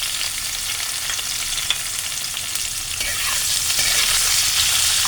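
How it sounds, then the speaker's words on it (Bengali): Chopped onions sizzle and crackle in hot oil while cooking palak paneer, a steady loud fry that grows denser and brighter toward the end, with occasional stirring and no talking. "এখন আমি পেঁয়াজটা দিয়ে দেব গরম তেলে।"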